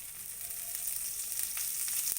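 Oil sizzling steadily in a hot pan for a sorghum-flour dosa, a close, even hiss that builds slightly, with faint clinks of a utensil and no talk.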